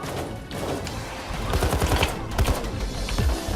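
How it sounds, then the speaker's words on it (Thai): Police gunfire in the heist game Payday 2, loud rapid bursts of automatic shots close by, stacking into a dense rattling barrage over the few seconds. "นี่ก็ยิงกูจังเลย"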